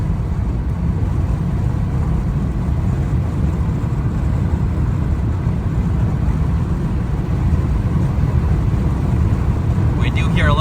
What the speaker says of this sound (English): We do hear a little bit of wind noise